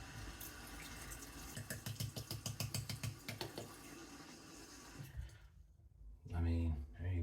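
A safety razor is rinsed under a running tap. Close, rhythmic clicking and rattling give way to a rush of flowing water, with someone talking over it.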